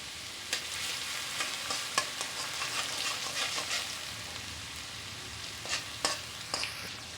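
Garlic paste sizzling in hot oil for a chicken jalfrezi, a steady crackling fry broken by sharp scrapes and clicks of stirring, close and fairly quiet, no voices.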